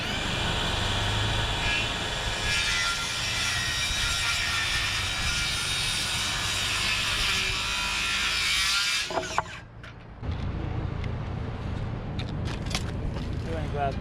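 A power saw runs loud and continuous while cutting an end piece for a manure storage wall, then stops abruptly with a clunk before another steady mechanical whine starts up.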